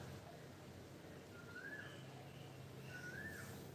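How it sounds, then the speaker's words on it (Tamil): Two short rising whistled calls, faint and distant, sound like an Asian koel outdoors in a sandy yard, heard over a low steady background hum. "நல்லா குயில் சவுண்டு கேட்குது."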